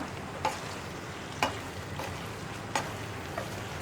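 Masala bread stirred gently in a hot pan, a low steady sizzle broken by four soft scrapes of the spoon spaced about a second apart, close and with no talk.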